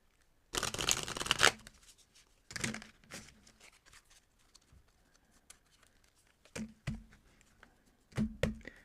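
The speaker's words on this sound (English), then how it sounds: "This deck is very difficult to shuffle. The cards are thick." A thick tarot card deck being shuffled in several separate bursts of riffling and flicking, close and fairly quiet, with short pauses between them.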